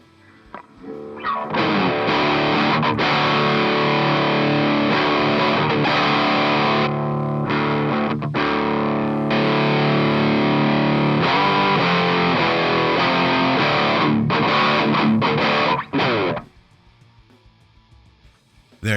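Dean Evo electric guitar played through a distortion pedal board, heavily driven and loud, sustained chords and riffs ringing for about fifteen seconds before cutting off to near silence.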